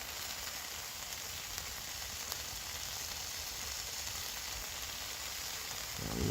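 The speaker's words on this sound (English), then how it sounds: "Just cooking that steak nice and slowly. Just render the fat down." Steak sizzling slowly in a pan at a wild camp, its fat rendering into a loud, steady crackling hiss that fills the whole stretch and swells slightly near the end.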